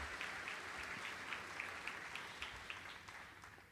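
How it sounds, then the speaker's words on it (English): A graduating class at a senior awards night claps together, a steady distant patter of applause from the crowd with no talking over it. "may we take a moment right now to applaud ourselves for all of the hard work"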